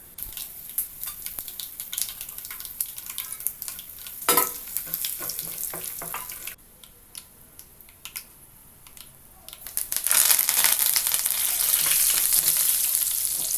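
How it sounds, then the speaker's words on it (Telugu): Chana dal, urad dal, mustard seeds, cumin, curry leaves and dried red chillies sizzle in hot oil for a tempering, with crackling pops, stirring scrapes and a louder burst of frying near the end. "శనగపప్పు, మినపప్పు, ఆవాలు, జీలకర్ర, కరివేపాకు, ఎండుమిర్చి అన్నీ వేసి పోపు దినుసులు అన్నీ వేసి బాగా వేగనివ్వాలి"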